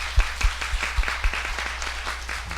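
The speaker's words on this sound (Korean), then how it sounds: "그 마음을 담아서 한번 크게 한번 박수 올려드리겠습니다" A church congregation claps together during a Korean Sunday worship service, a short burst of hand claps with a few sharper, louder claps standing out over the crowd's steady patter.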